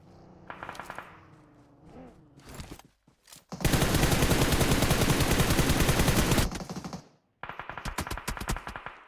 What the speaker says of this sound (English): while exchanging shots